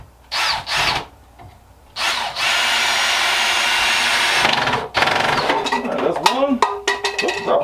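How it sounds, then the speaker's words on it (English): A power drill drives cheap black drywall screws into a wooden board, whirring in short bursts and then one long sustained run, with a clatter and light handling noises at the end. "So these are just cheapo drywall screws I'm going to run in here."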